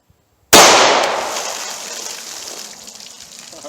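A 9mm round is fired into a row of ballistic target jugs after brief silence: one sharp, loud report followed by a splashy burst and a gradually fading wash of water and debris.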